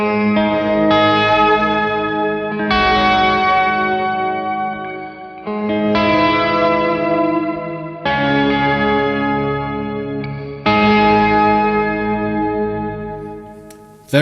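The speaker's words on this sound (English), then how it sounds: "Very full-bodied, you can hear both the low and the high octave there." Guitar chords ring out through a Walrus Audio Fathom reverb pedal's lush octave reverb, with deep low and shimmering high octaves blending into a full, washy sustain. Each chord is struck and allowed to decay.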